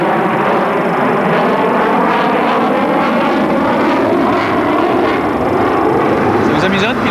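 A Sukhoi Su-30 prototype jet roars loudly and steadily overhead, its engine noise filling the whole stretch without pause.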